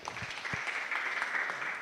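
An audience at a university economics students' association event applauds, a steady patter of many hands clapping at moderate volume throughout.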